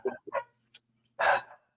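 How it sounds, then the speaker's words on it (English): A dog barks indoors in a few sharp, close yaps: two quick barks, a brief yip, then a louder, longer bark after a pause. "My dog going crazy."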